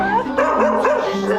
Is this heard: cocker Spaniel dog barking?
yes